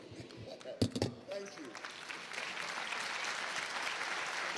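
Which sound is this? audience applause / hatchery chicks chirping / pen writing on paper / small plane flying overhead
audience applause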